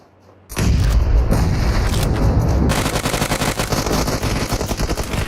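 A grenade blast in a battle royale game, a sudden loud boom followed by sustained rapid gunfire and explosive crackle that continues to the end, with no talk.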